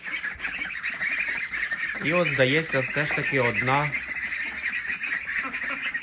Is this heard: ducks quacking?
yes